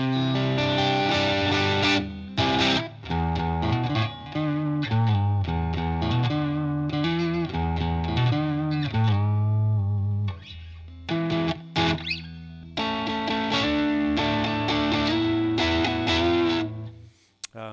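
Heavily distorted electric guitar through a King of Tone clone pedal in distortion mode plays chords and riffs with a thick, saturated crunch, loud and continuous with a few brief gaps, no voices.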